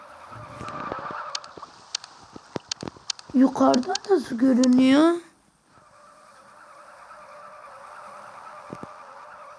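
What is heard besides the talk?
car accelerating and skidding in a video game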